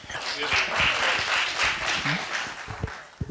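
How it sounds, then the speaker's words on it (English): Applause from a panel discussion audience on geospatial technology, a dense wash of clapping throughout, with a voice speaking over it. "Hold those applause."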